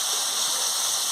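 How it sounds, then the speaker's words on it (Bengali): Vegetables frying with chili powder in a pan make a continuous close hiss of sizzling oil, steady and even for the whole short stretch, with no voices. "দিয়ে ভালো করে আনাজটাকে কষিয়ে নিচ্ছি"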